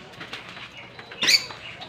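Caged lovebirds at a neighbour's house in the rural Philippines give soft chatter and one sharp, louder chirp, heard from a short distance with no speech.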